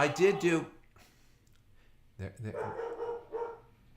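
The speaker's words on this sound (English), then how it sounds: "There's the dog announcing Allie." A dog barks in a short burst of several loud, close yaps at the start, then after a pause a longer stretch of barking and excited vocalizing follows, announcing someone's arrival indoors.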